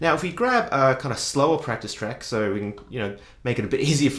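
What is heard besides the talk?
None of the usual background noises is heard.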